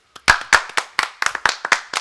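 A small group claps hands together in a living room during a casual home meeting, producing a burst of uneven, overlapping claps that start sparse and settle into a loose rhythm, close and fairly loud, with no talking.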